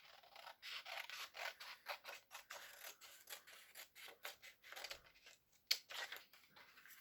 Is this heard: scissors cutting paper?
yes